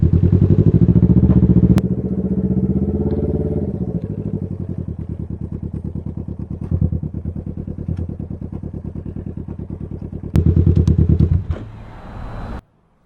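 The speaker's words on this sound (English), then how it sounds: "Can't hear you over this super sweet exhaust. Too loud." A loud aftermarket exhaust on a Can-Am Ryker three-wheeled motorcycle rumbles and pops close by, revving up and settling into a rapid throbbing idle before cutting off abruptly.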